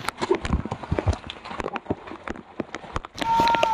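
Rain falls on a village road, a patchy patter of drops and splashes close by with scattered sharper taps, ending in a denser steady hiss.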